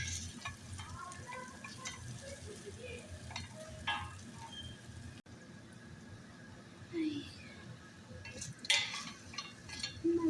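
Turmeric and black pepper frying in a pan, with a continuous close sizzle broken by scraping and clinking stirring strokes, and faint voices now and then in the background.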